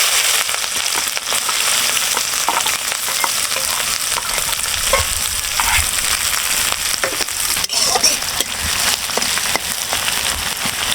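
Chopped onions hit hot oil already seasoned with whole cumin seeds and bay leaves for a duck curry, giving a loud, steady crackling sizzle with brief stirring scrapes, no voices.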